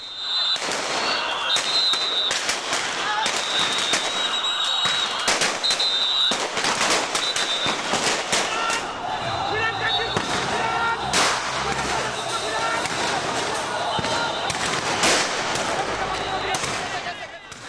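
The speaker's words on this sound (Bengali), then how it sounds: "একদিকে জলকামান, অন্যদিকে যৌথ বাহিনীর গুলি আর টিয়ার সেলে দ্রুতই ছত্রভঙ্গ হয়ে যায় হেফাজত কর্মীরা" During a nighttime police and joint-force action against protesters at Motijheel, gunfire and tear gas shells crack out in rapid, irregular volleys, with loud sharp bangs at close to mid distance continuing throughout.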